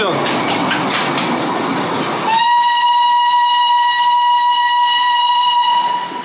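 A Darjeeling steam train first lets out a loud, rushing hiss of steam, then its whistle sounds a long, steady, shrill blast close by for several seconds before cutting off.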